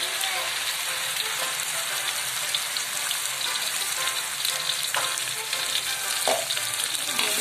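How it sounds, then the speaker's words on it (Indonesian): Ground spice paste sautéing in hot oil in a pan while being stirred, a steady close sizzle like light rain with occasional spatula scrapes. "Ini kita tumis, kita aduk-aduk."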